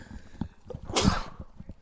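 A single sharp sneeze from a commentator in the booth during a college baseball broadcast, Adrian versus Kalamazoo, bursting out loud about a second in over a quiet background.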